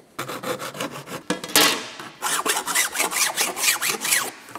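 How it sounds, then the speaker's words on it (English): A hand file rasps along the snipped, serrated edge of a cut metal mudguard for a Fiat Dino, giving a quick series of scraping strokes, close up and with no talk. "That's because you've got the little serrations of the snips left in there, which is what I'm just filing out."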